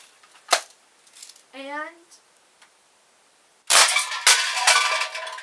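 A Daisy 840 series air gun is fired at aluminum cans, giving a crisp snap followed later by a louder sharp report and a rattling clatter. Someone speaks briefly before the shots.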